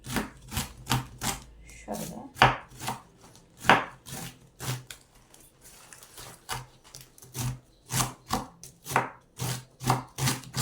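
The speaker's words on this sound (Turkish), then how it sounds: "Doğrama işlemini ince yapmamız gerekiyor" Rapid, rhythmic knife strokes chop on a cutting board, steady bursts of close thuds with brief pauses, no talking.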